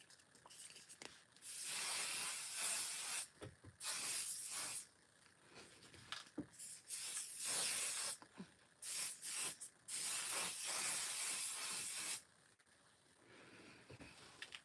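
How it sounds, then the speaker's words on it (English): Flexible texturizing hairspray sprayed from a can in several bursts, some long and some short, each a close, breathy hiss separated by brief pauses. "If I put a little bit of hairspray, it might help."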